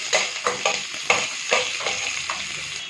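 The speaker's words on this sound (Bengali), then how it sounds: "এবার পেঁয়াজ দিয়ে ভালোভাবে ভাজতে হবে" Onions fry in hot oil for a low-oil muri ghonto while a spatula stirs them, giving a soft continuous sizzle broken by regular scraping strokes against the pan, close and moderately loud.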